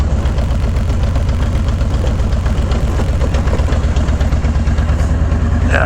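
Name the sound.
off-road vehicle engine bogging in second gear over metal plates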